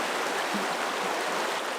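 River rapids on a Finnish kayak trip rush steadily, a dense continuous broadband roar of flowing water close by with no other sounds.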